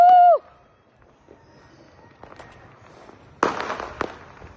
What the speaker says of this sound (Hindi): अनार चला रहे हैं।